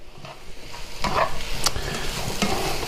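Mushrooms are stirred in a hot frying pan for steak Diane, with spoon-against-pan scrapes and clacks over a low steady sizzle that grows louder after the first second.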